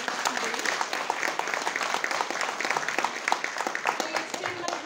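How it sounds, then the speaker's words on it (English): Steady applause from a sizable audience at a school performance event, dense overlapping claps continuing throughout at an even, lively level, with some crowd murmur underneath. "Let's give a huge round of applause to all the performers today."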